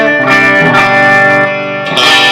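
Electric guitar driven through a Tube Screamer-style overdrive into a Rowin amp, playing loud sustained crunchy chords with a short gap and fresh strum near the end; no talking.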